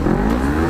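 A big-bike motorcycle, an NK400 or Tracer 900, revs loudly up close in a short, throaty burst of engine roar.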